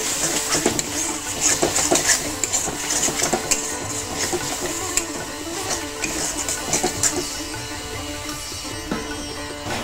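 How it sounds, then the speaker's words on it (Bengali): Spice paste for a Bele fish jhal is stirred and fried in a pan, with a steady sizzle and frequent scraping clatters of the spoon throughout. "এখন মশলাটা আমি ভালো করে কষিয়ে নেব।"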